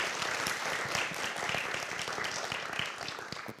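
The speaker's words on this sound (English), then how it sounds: "Please give them a huge round of applause." An audience at a film festival panel applauds, a soft, steady wash of many hands clapping, faint and distant, fading slightly toward the end.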